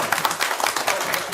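A crowd at a government food-packet scheme launch event applauds in a brief, dense patter of clapping, with voices faintly mixed in.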